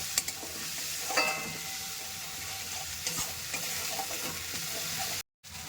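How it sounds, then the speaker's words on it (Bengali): Ground spice paste fries in a pan for a paneer chhana curry, giving a continuous hissing sizzle with light stirring scrapes, and a brief moment of silence near the end. "এবারে আমি দিয়ে দিচ্ছি বেটে রাখা মশলাটা দিয়ে আমি ভালো করে কষিয়ে নিচ্ছি"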